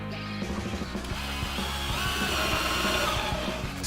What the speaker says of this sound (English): smooth down all of the edges using the router